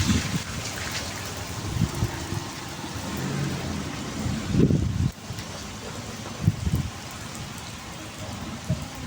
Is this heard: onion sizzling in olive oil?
no